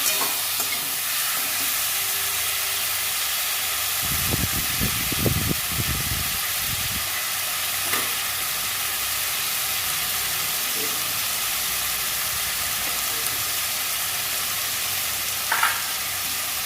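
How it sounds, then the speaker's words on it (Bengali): Cut pumpkin pieces tossed into a hot pan of oil for a pumpkin, potato and fish curry, giving a steady broad sizzle with a louder burst of stirring and spluttering midway. "কুমড়োটা কেটে রেখেছি দিয়ে দেবো কেটে দিয়ে পরিষ্কার করে রেখেছি দিয়ে দিলাম"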